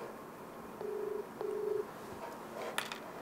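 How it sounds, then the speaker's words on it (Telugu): A phone call is placed: two short electronic dialing or ringback tones sound in quick succession, faint and clear, followed by a brief click. "సునీల్ నెంబర్ రింగ్ అవుతుంది."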